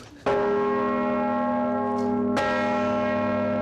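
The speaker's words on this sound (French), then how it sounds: "le plus gros bourdon de Franche-Comté, une cloche de 4 tonnes" A 4-tonne bourdon bell in the Saint-Just church tower at Arbois booms out with a deep, sustained hum, then a second loud strike at about two seconds renews the long, ringing tone, heard close and alone.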